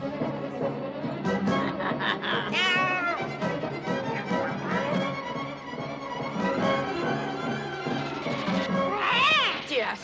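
A cartoon cat meows and yowls in a French Smurfs animated episode, several whiny calls rising over busy background music and sound effects, with voices speaking nearby.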